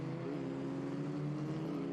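FR Americas race cars at Virginia International Raceway run flat out through the climbing S-curves, a steady close engine drone holding constant throttle with no lift, loud and continuous throughout.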